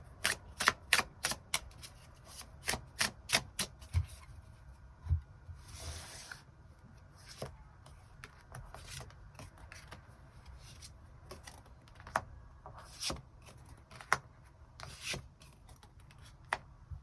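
Tarot cards are shuffled and drawn, making crisp riffling clicks and slaps in quick bursts, then sparser single card snaps and soft rubbing, close and fairly quiet with no talk.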